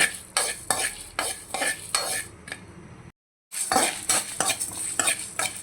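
Ingredients for gongura masala pulihora being stir-fried in a pan, with a utensil scraping in steady rhythmic strokes over a continuous sizzle, a brief silent gap partway through, then the stirring resumes.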